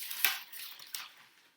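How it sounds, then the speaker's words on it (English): Parchment paper on a cookie sheet crinkles and rustles while salt dough is shaped by hand, with a couple of sharper crackles amid softer scratchy handling close by. "Pardon the noise from the parchment paper."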